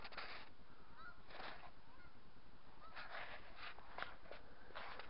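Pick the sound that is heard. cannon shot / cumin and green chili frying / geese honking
geese honking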